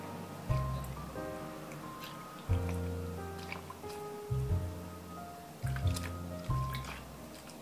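A wool nursing pad is gently squeezed in a basin of water, giving soft squishes, drips and trickles repeated several times, close and moderate, over a low steady background hum.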